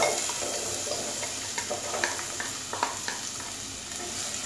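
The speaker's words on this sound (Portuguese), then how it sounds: "Esquentou o nosso azeite, eu vou colocar aqui, eu piquei uma cebola em quadradinhos." Diced onion fries in hot olive oil, a steady close sizzle with scattered small pops and crackles throughout, no voices.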